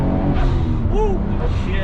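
A Nissan Skyline GT-R R33 V-spec with an HKS 2.8-litre stroker engine and DR500 turbos accelerates, its engine a loud, close, steady roar climbing in pitch from inside the car.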